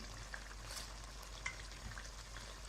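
Whole garam masala fries with half-cooked chopped tomatoes in a pan for chicken pulao, a faint, steady sizzle with soft crackles and a few small pops throughout.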